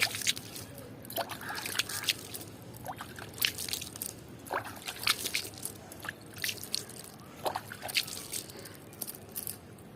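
Water is sprinkled lightly by hand over spread compost soil, producing faint scattered patters and soft crackling drips in irregular bursts, close up with no talking.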